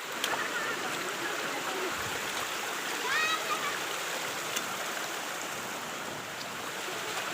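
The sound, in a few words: waterfall water flowing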